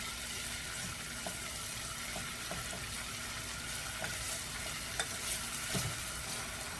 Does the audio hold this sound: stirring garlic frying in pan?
yes